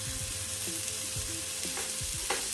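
Black chickpeas are tipped into spices frying in oil for a festival offering dish. A close, steady sizzle carries repeated scraping stirs of a spoon against the pan, and no one speaks.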